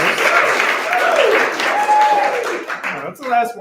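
An audience at a student BFA reading in a chapel bursts into steady, close applause with cheering and an excited shout rising over the clapping.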